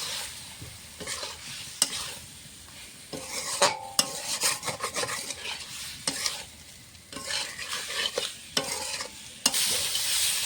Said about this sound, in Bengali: আলু সয়াবিন ডিম দিয়ে মশলা দিয়ে একসঙ্গে কষিয়ে নেব ভালো করে